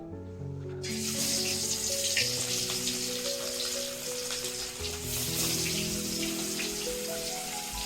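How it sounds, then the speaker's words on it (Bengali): A sudden loud sizzle as Nilotica fish hits hot mustard oil in a wok, then continuous bubbling and spitting, with soft tonal music underneath. "আমি এখন মাছগুলো ভেজে নিব।"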